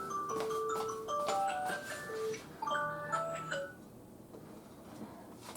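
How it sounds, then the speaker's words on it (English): A bright electronic phone alarm melody beeps through a series of quick tones, then cuts off, leaving faint room noise. "That's my alarm."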